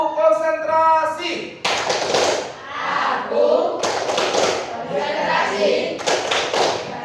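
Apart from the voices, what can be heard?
children's rhythmic clapping for concentration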